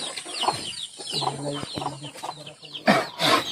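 Chickens and chicks cluck on a rural farm, close by, with a series of short, uneven clucks and peeps ending in a louder burst of squawking.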